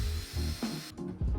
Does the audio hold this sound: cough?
no